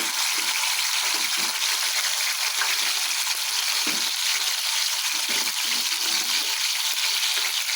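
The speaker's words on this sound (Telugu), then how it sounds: "ఇప్పుడు ఉల్లిపాయలు వేసుకుంటున్నాను" Chopped onions with coriander and green chillies frying in hot oil, a dense continuous hiss and crackle of sizzling, loud and close, with occasional stirring knocks.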